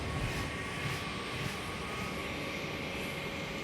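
A rescue helicopter's spinning rotors on a ship's helipad, a loud, steady engine roar with a whine and a faint rhythmic throb from the blades, close and unbroken.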